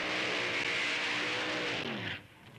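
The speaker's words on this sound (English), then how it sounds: "Let's see the burnout." A Willys drag racing sedan with an aluminium racing engine does a burnout, a loud, sustained high-revving roar with tyre screech that holds for about two seconds, then cuts off sharply.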